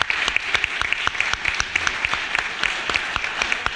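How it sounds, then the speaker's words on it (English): Conference audience applauding steadily after a keynote panel, a dense wash of many hands clapping with sharp individual claps standing out, moderately loud and continuous without talk. "Please turn around and just give them a clap."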